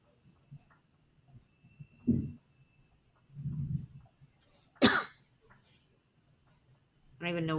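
A person wearing a face mask gives a few muffled coughs and throat clears, scattered over several seconds with quiet pauses between, close to the microphone.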